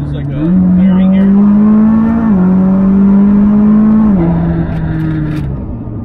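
McLaren 600LT supercar accelerating hard on a road through a clearing, its engine note climbing loud and close through two sharp gear shifts, then easing off toward the end with no talking.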